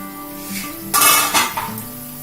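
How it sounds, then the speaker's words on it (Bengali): A lid clanks onto a pot of simmering spiced water for a tangra fish curry, two quick metallic knocks in a quiet kitchen. "ততক্ষণ আমি ঢাকা দিয়ে রাখলাম।"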